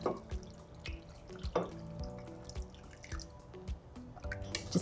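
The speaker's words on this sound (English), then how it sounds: "A liter of water to this." Water poured into a pot of mutton coated with garlic and coriander paste, heard as close, uneven splashes, drips and liquid plops with a soft gurgling rhythm, no talking.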